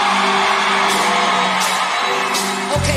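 A large concert crowd at a Juneteenth show in Dallas, Texas screams, whoops and cheers loudly and continuously, with a dense roar of many voices filling the space.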